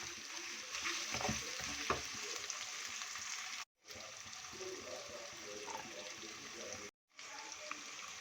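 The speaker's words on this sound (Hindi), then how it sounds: "अब हम इसमें अपने बाकी के ये तमाम मसाले शामिल कर देंगे और मज़ीद 1 से 2 मिनट इसकी हम भुनाई करेंगे।" Spices are fried and stirred in a pot for a beef stew, a steady close sizzle with scraping stirs, briefly cut by two short gaps.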